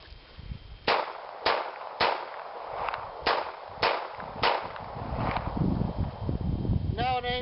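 A snub nose .38 revolver fired up close, six sharp reports spaced about half a second apart, ringing loud and near, with a voice speaking briefly at the end.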